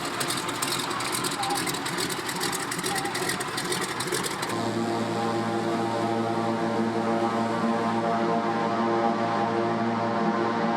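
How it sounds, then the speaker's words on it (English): Propeller aircraft arriving near Juneau and Kayak Island, Alaska: a broad roaring wash gives way to a steady droning engine hum with strong tonal layers, loud and continuous throughout. "No sooner does one plane leave than another arrives."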